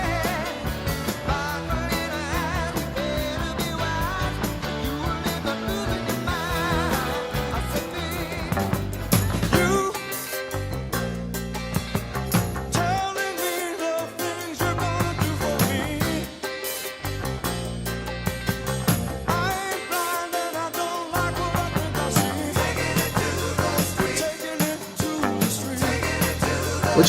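A 1976 piano-driven pop song plays loud and continuous with a full band, steady rhythmic pulses and rich keyboard harmonies throughout.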